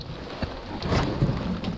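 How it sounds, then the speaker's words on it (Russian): Heavy rain pours down during a fishing trip on the water, a steady broadband hiss with wind buffeting the microphone and a few dull knocks, close and fairly loud. "Дождь зарядил конкретно"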